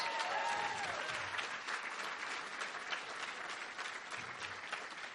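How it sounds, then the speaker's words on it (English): Sustained audience applause, a steady wash of many hands clapping that fills the whole stretch without letting up. "Give yourselves a big round of applause."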